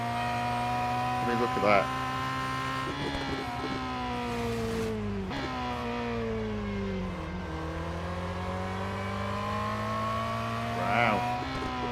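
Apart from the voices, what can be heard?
Lancia race car engine in video game Real Racing 3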